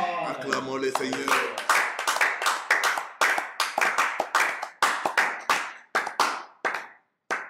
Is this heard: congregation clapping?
yes